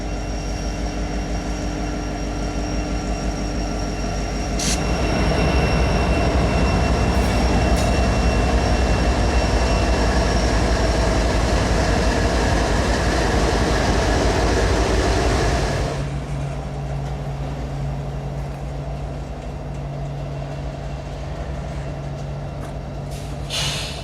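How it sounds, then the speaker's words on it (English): An intermodal freight train rumbles past on the main line at close range near Avon Yard, Indianapolis, loud and steady with rolling wheel and car noise, then the roar drops away to a lower, fading hum. "an intermodal train showed up on the main line heading westbound"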